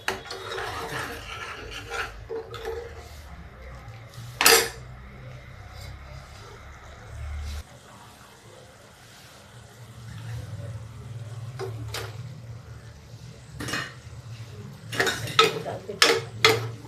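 A masala of turmeric, coriander and chilli cooks in a pan, giving a low steady sizzle with occasional scraping and clinks of a spoon against the metal, close by and moderately quiet.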